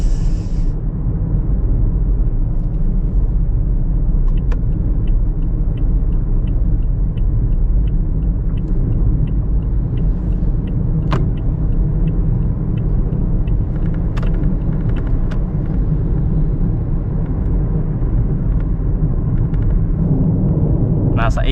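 A car cruising along an open country road at about 80 km/h, steady low road and engine rumble throughout with no pauses, loud and close, likely heard from inside the cabin.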